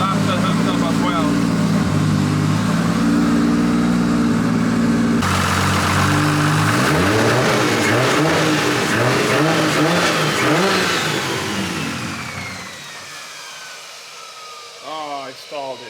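A fully built Toyota 2JZ engine in a BMW E36 drift car runs loud and close, with steady rough idling giving way to repeated rising and falling revs, then settling and fading near the end as voices talk over it.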